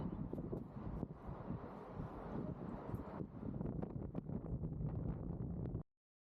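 Steady wind at the Sailor's Tower in Gothenburg, a continuous rushing buffet against the microphone with gusty rumble and occasional knocks, ending abruptly in silence.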